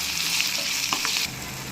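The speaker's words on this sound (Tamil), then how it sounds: "இப்போ இது கூடவே நம்ம எடுத்து வச்சுருக்க தக்காளி ஆட் பண்ணிக்கலாம் நல்லா கிளறி எடுத்துக்கலாம்" Tomato frying in a pan gives off a loud, continuous sizzle, broken by a few soft scrapes as it is stirred.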